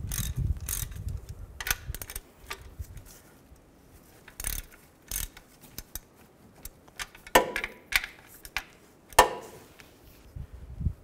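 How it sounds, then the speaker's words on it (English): A 15 mm socket ratchet loosening catalytic converter nuts on a 2008-2012 Ford Escape, with sharp intermittent clicks and clunks of metal tools, bursts spaced irregularly and fairly close, otherwise quiet. "Now we're going to loosen up these two nuts. I'm going to use a 15 millimeter socket."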